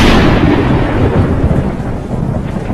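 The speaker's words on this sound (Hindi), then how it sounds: "कितना मस्त मौसम है और बारिश भी इतनी तेज पड़ रही है" Heavy monsoon rain pours steadily with deep rolling thunder, a loud, continuous dense roar through the whole stretch with no voices.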